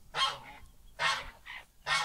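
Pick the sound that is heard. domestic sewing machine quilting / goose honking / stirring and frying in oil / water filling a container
goose honking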